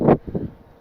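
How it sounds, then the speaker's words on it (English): Short low buffeting gusts of wind hitting the microphone beside a 2024 Newmar SuperStar 4530 Super C motorhome, two muffled rumbling bursts that quickly die away. "Pardon for the wind here."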